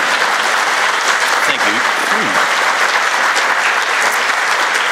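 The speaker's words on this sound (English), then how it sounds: "So we'll applaud now." Steady, dense applause from a crowd at a memorial celebration of life fills the whole stretch, with a few voices briefly audible underneath.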